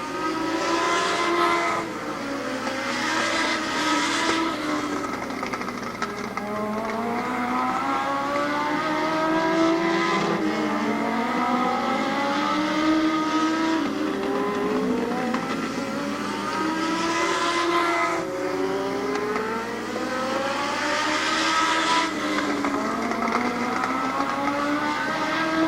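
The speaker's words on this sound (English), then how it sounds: "Three laps in, 3 laps to go in this Legend Car heat" Several Legend cars roar around a short oval track during a heat race at Barberton Raceway Park, their engine notes rising and falling in overlapping sweeps as cars pass, loud and continuous for the whole stretch.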